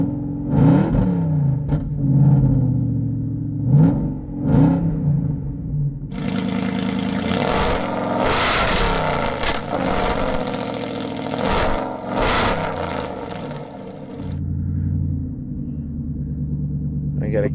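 An Aston Martin engine shortly after a cold start, with a few short revs over idle followed by a longer, louder sustained rev that drops back to a rumbling idle.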